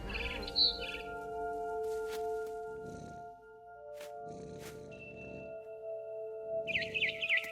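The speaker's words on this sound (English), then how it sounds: "Then I heard chirping outside my window. It was a barn swallow going back to her nest." A barn swallow chirps in a video game with quick, high twittering bursts at the start and again near the end, heard over sustained tonal game music.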